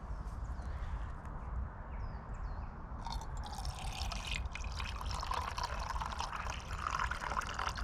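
Mint tea is poured from a flask outdoors during a solo overnight stay in a fallen tree shelter, a close, steady liquid trickle over constant wind-like background noise, growing fuller partway through.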